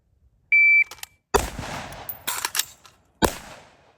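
Shooting at targets on a range with a shot timer: a single electronic beep, then a sharp gunshot followed by a quick follow-up shot, and another sharp report near the end.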